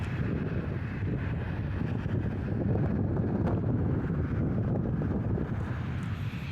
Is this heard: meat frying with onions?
no